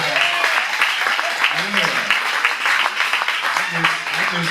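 Audience applause for a jazz band at a club after a trumpeter's set, a dense wash of clapping mixed with a voice and cheering over it.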